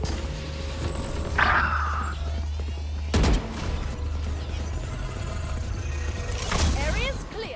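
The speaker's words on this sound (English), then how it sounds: "Placing swarm grenade. Swarm grenade out." Swarm grenades from the game Valorant going off in a sharp burst of popping blasts, with bright synthetic effects and later detonations over a low ambient hum, no voices underneath.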